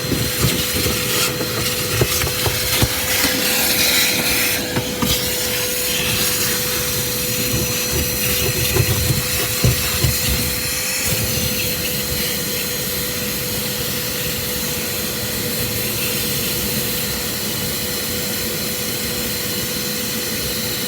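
Power tool grinding rust off metal, a loud continuous whine and rasp with shifting pitch as it works, running nearly the whole time with a short pause partway through.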